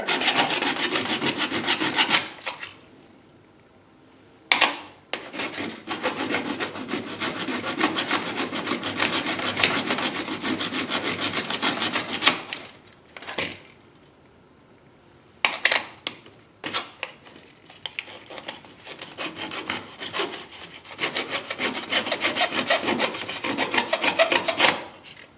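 Metal file rasping back and forth to smooth a cut metal part for a driveway propane forge burner, long runs of harsh scraping strokes broken by brief pauses, close and loud with no talk.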